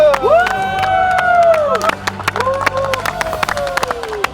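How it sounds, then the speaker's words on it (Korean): Scattered hand claps ring out alongside excited voices cheering and calling out from a small group nearby, celebrating a successful home run challenge in baseball. "성공 박수!"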